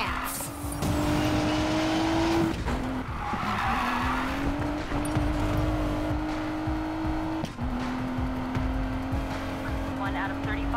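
Race car engine revving with tire skids in the video game Need for Speed Payback, a steady high engine whine shifting through gears with squeals and brief breaks, under occasional voices.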